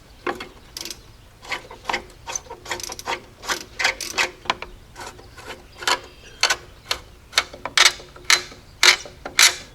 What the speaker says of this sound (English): take our retainer ring and put all the screws back in